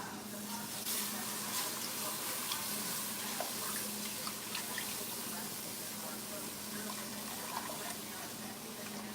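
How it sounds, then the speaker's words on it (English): Four cups of milk pour into a pan of browned butter and flour roux for mac and cheese, a steady liquid gush running the whole time over a faint low hum. "I'm gonna add 4 cups of milk."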